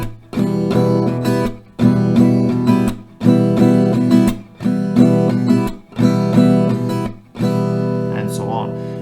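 Acoustic guitar strumming the pattern, with the clap replaced by a palm-muted hit that briefly kills the strings; full repeating chord rounds, close and steady, with no talking over them.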